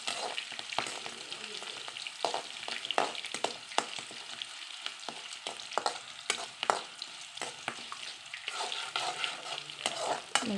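Green chillies fry in oil in a pan, giving a steady close sizzle broken by repeated sharp scraping strokes of a spoon stirring them, with no voices.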